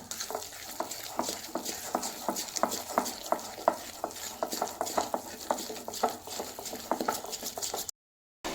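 Semolina batter and milk are stirred and beaten briskly in a bowl, a quick and steady rhythm of close scraping and tapping strokes that continues until it stops abruptly near the end.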